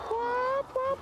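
Free-range egg-laying hens on a farm sounding two loud, close, drawn-out honking calls in quick succession, the second one shorter.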